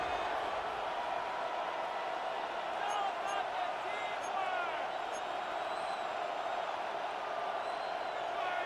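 Stadium crowd noise from the Madden football video game, a steady broad roar of fans building before a third down, continuous and moderately loud throughout with faint higher whoops on top.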